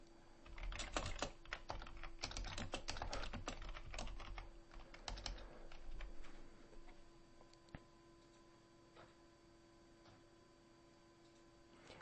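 Rapid keystrokes clatter on a computer keyboard, dense at first and then thinning to sparse taps over a steady low hum, close and fairly quiet.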